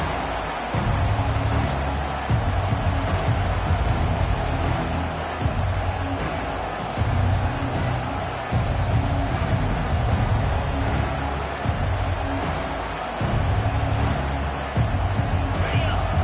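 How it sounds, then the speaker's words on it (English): Home crowd at a Hurricanes college football game roars steadily through a kickoff and the following run, a dense, continuous stadium din with surges of cheering and a commentator talking over it. "This crowd trying to show them what it's going to be like all day in this house."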